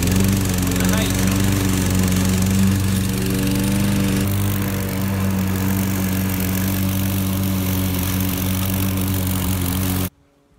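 A front-wheel-drive self-propelled Hayter Harrier 56 lawn mower runs loud and steady up close, its engine drone holding constant for about ten seconds before cutting off abruptly.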